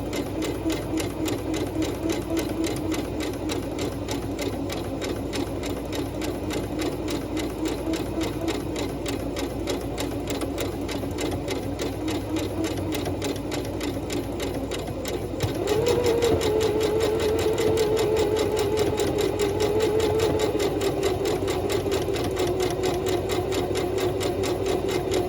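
An old sewing machine with its tension turned up to the highest setting stitches a ruffle, running as a steady continuous whir that grows slightly louder and higher partway through, with no talking.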